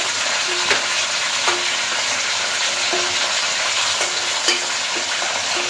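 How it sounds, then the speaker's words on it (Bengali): Pointed gourd (potol) fries in oil over raised heat, giving a loud, continuous close sizzle broken by a few soft stirring clicks, with no voices. "তাই জাল বাড়াইয়া পটলটা ভেজে নিতে হবে।"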